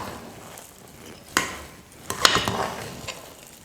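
A spoon stirs cooked rice with lentils and raw mango in a pot, giving a few soft scraping and clinking strokes, close and fairly quiet, with gentle rustling between them.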